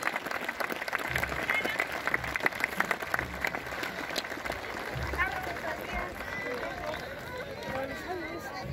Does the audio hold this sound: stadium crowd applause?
yes